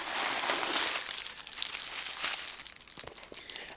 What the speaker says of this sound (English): let me take the black tissue paper out